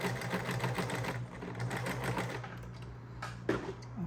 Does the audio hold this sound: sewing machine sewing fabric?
yes